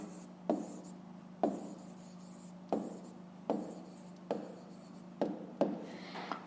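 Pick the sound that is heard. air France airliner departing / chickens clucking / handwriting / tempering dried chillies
handwriting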